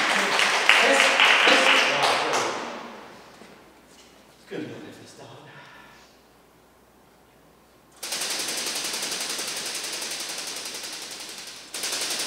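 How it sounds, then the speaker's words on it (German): An audience bursts into loud, dense applause for a man at a poetry-automaton performance. The clapping follows earlier speech and a quiet pause, then holds steady for several seconds before cutting off. "Applaus für den Herrn."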